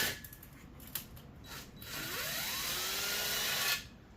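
A power drill spins a bit against a bolt and nut on a scrap electric motor, with short ratcheting bursts followed by a steady whirring run of a few seconds, close up.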